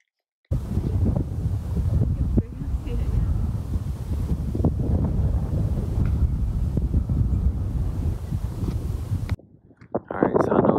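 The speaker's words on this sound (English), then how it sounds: "so I know it's windy out here" Strong wind gusts buffet the microphone across open prairie at Mormon Row in Grand Teton National Park, a loud, steady roar for about nine seconds before dropping off abruptly near the end.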